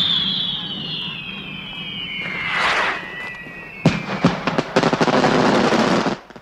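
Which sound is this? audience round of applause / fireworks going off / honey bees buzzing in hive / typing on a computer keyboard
fireworks going off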